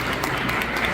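Brief burst of clapping from a congregation at a golden jubilee celebration of a couple's 50th wedding anniversary, dense and steady for about a second.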